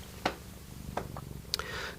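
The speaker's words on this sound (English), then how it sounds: "Gosh, she's loud, huh? She loves to purr." A domestic cat purrs loudly and steadily up close, a low continuous rumble with a few soft clicks and rustles on top.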